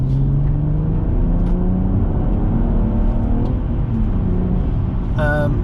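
A stage-one remapped BMW M135i LCi making 396 bhp accelerates hard in sport mode with traction control on. The engine note is loud and close, climbing steadily in pitch through the gears.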